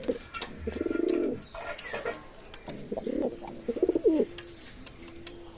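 Pigeons coo nearby in a series of low, throaty, rolling calls, several overlapping phrases with short gaps, fairly close against faint background noise.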